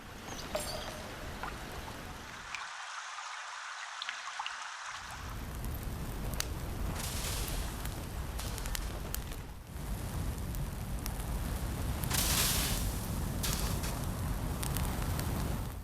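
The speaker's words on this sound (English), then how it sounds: "I also adopted this approach for the well dripping and fire cooking." Ambient sounds in an Unreal Engine 5 scene, water dripping in a well and a fire crackling under cooking, forming a dense continuous hiss and crackle that drops out briefly near the start and swells at times, with no voices.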